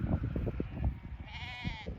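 Flock of sheep being herded down a Scottish valley, with bleating calls rising over a busy outdoor background of shuffling and wind, heard at a middle distance.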